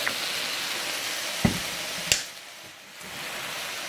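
Already-cooked spaghetti noodles sizzling steadily in a pan with no oil as soy sauce goes in, a close hiss with a couple of sharp clinks of a utensil and a brief dip in the sizzle near the end.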